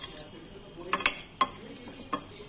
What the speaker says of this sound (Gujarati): ગોળ નાખી દીધો છે, ફટાફટ હલાવશું